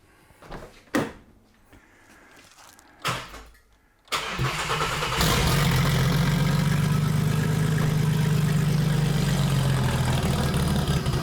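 A car engine with a newly fitted Maxpeedingrods GT45 turbo cranks after a couple of clunks, catches and settles into a loud, steady running drone close by.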